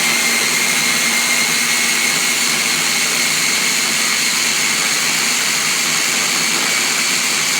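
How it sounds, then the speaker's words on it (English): Loud continuous whir of a blender whizzing sweet corn into a thick paste, holding a steady motor drone throughout with no pauses and no voices. "we're just going to whiz this into a paste basically"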